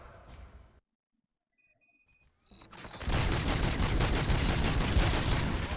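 A brief burst of sharp noise, a silent gap with electronic beeps, then sustained loud rapid gunfire filling the rest, a firefight in the video game RoboCop: Rogue City.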